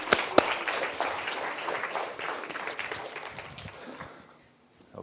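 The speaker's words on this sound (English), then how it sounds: "Let's give them a little round of applause." A studio audience applauding at a science demonstration, a dense burst of clapping that holds steady and then fades out to near silence.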